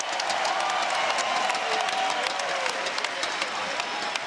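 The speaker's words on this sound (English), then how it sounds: "A big round of applause as your main event tonight." An arena crowd at a wrestling main event applauds and cheers in a steady, dense wash of clapping that holds at even loudness throughout, some distance away.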